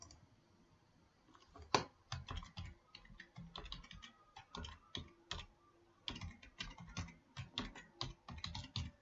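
Fingers type on a computer keyboard in quick irregular bursts of sharp clicks and taps, near and fairly quiet, with short pauses between runs of keystrokes and no speech.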